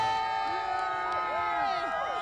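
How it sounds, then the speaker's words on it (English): Crowd of LSU fans cheering and whooping at a New Orleans Mardi Gras parade, a steady roar with rising shouts and whistles sweeping through, sustained throughout with no clear gaps. "these folks know how to cheer"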